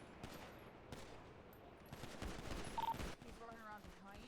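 Gunfire in the GTA V roleplay game, several sharp bursts of shots fired in quick clusters at moderate distance, with faint radio chatter and a beep between them.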